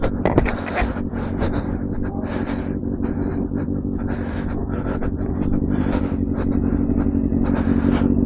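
Yamaha MT-09 motorcycle with an Akrapovic full exhaust out on a ride, its engine droning steadily with rising and falling revs under constant wind rush.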